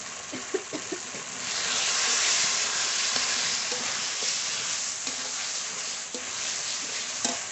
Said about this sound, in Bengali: একটু জল দিয়ে ভালো করে কষিয়ে নেব